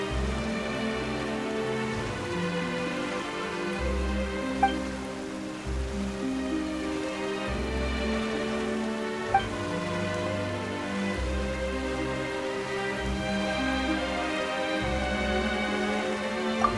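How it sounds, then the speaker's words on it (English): A sudden rain shower in the video game Genshin Impact patters steadily on surfaces, a continuous moderate hiss of falling drops under a sustained low musical score, with a few faint clicks. "Why is it raining all of a sudden?"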